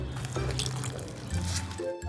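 Water poured into a banana batter during home cooking, a steady liquid splash and trickle filling the bowl, close and moderately loud throughout.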